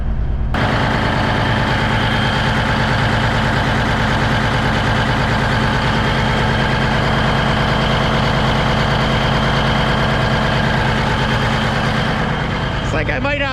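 A Cummins diesel truck engine running steadily with the throttle bumped up, a loud, close, continuous rumbling drone that holds level before dropping off at the end, with some talk under it.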